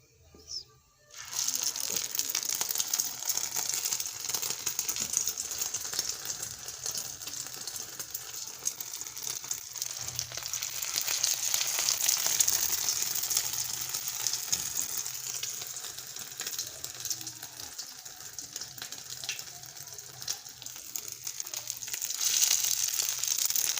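Potato kebabs dipped in egg fry in a pan with a steady, close sizzle and crackle that swells and fades over about twenty seconds, after a brief quiet start.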